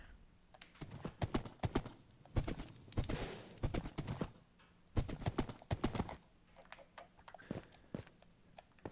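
Rapid clip-clop hoof beats of a horse in Minecraft come in fast bursts, crisp and close, with short pauses between runs and a few scattered clicks.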